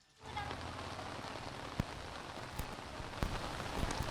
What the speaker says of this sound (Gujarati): ત્યાં કેવો વરસાદ વરસી રહ્યો છે